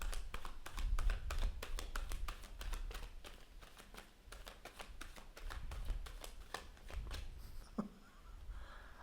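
Tarot cards are shuffled by hand, a quiet run of crisp taps and flicking riffles in an uneven rhythm, heard close with no talking.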